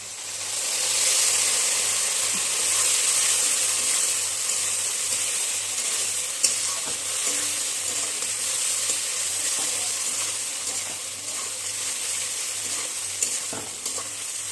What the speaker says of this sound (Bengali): আগে আমি চার মগজ আর পোস্তটা দিয়ে দিচ্ছি